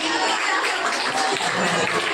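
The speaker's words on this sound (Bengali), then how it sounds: "ঐশীর মা হাততালি দিন ঈশার মা দেবগানের মা হাততালি দিন" An audience claps steadily at an evening dance program at a temple, a dense, continuous wash of applause with no clear breaks.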